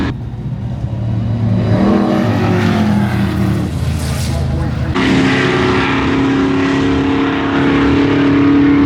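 A 3 Series BMW and a late-1940s Chevrolet race at a Hot Rod Drag Week strip, with a loud, sustained engine roar that swells and rises in pitch partway through, heard from nearby.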